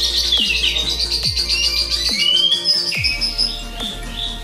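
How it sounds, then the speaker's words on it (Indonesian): An oriental magpie-robin sings a steady run of bright, repeated whistled phrases and chirps, loud and close, with faint low thumps underneath and no talking. "kelebihan kacer tadi, irama lagu dan volume"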